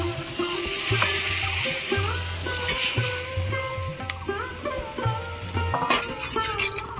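Mourola fish curry for bati chorchori sizzles and bubbles steadily in a pan as water goes in, with a low background hum, scattered clinks and a little faint talk.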